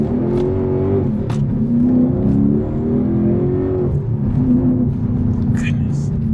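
A Mercedes CLK 63 Black Series with a hand-built AMG V8 and a swapped-in manual gearbox roars loud and close, engine note climbing and holding through steady revs, with faint sounds of people in the background.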